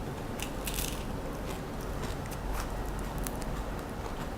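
Someone bites into a crunchy dried burdock chip, and a few crisp crackles sound against a steady background hiss.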